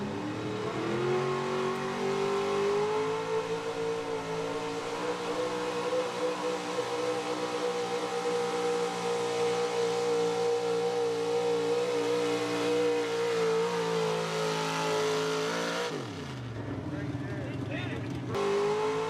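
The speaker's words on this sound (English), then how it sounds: "He drove it really good off the line, had a nice smooth takeoff, gradually got into the throttle" A 1987 Chevy pulling truck roars at a truck and tractor pull, a loud sustained engine note that climbs steadily under full throttle for about fifteen seconds before cutting off abruptly, followed by a brief lower rumble.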